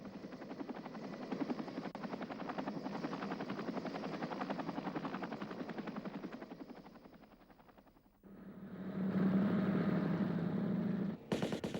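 A helicopter's rotor thuds in a steady rapid chop, loud and close, then shifts to a higher whining drone as it passes.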